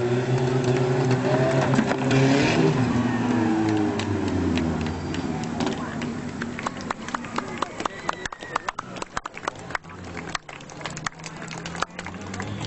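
Neon-wheeled stunt cars of the Canadian Hell Drivers driving on two wheels at a show in Reading, Pennsylvania, with engine drone and crowd noise, then a long series of sharp clattering knocks and thumps.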